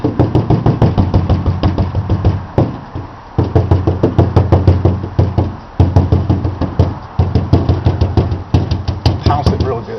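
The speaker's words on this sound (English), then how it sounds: "Pounce it real good. Pounce and pounce." Pounce bag dabbing powder through a stencil onto a 1936 Ford truck door, a fast rhythmic series of soft thumping pats in bursts with short pauses, close and loud.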